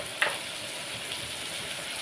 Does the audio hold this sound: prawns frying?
yes